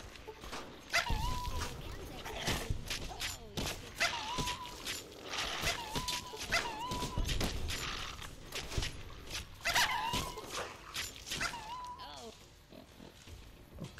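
Dogs in the video game Fallout New Vegas bark and whimper in repeated short bursts throughout, with game effects layered over them and a person talking at times in between.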